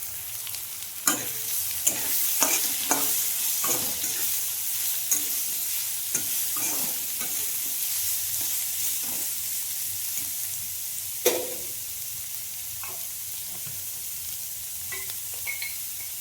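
Grated papaya and potatoes frying in oil, with a steady sizzle running throughout and scattered clacks and scrapes as the pan is stirred.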